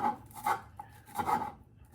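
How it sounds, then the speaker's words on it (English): A knife chops green onions on a board in a few soft, separate cutting scrapes, close and fairly quiet, with no talk. "another thing my grandma loved so much is green onions. So I'm just gonna chop a little of these."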